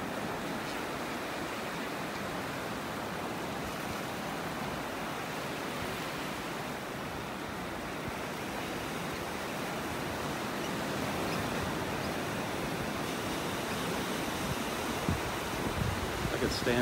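Ocean surf rolls onto a Naples, Florida beach as a steady broad wash of breaking waves, with wind buffeting the microphone and no clear gaps between swells.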